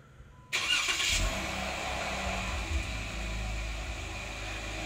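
A 2017 Jeep Wrangler Rubicon with its stock exhaust cranks over briefly and fires up from cold, settling into a steady, fairly loud low idle rumble close by, with no talking.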